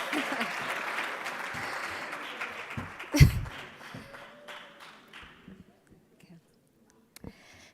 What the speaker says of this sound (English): Can we please give the minister one more round of applause?